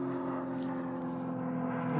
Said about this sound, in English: Excuse the aeroplane going across.